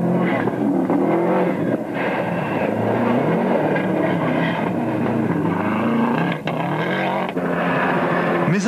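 A Toyota rally car races on a stage of Rally Australia 1992, its engine revving and shifting in a continuous loud roar with rising and falling pitch.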